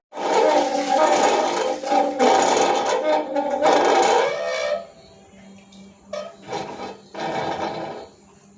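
Water is drawn and splashed from a home well for a morning puja, a loud rushing, churning pour for several seconds that then drops to quieter trickles and sloshing bursts, with no talk.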